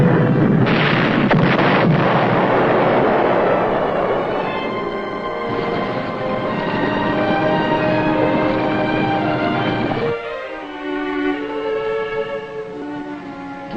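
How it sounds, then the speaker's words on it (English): Heavy naval gunfire at sea as an enemy ship is shot up, with booming blasts and rumbling bursts at first, then fading into a ringing, sustained tone toward the end, with no talk. "They're shooting up their own ship."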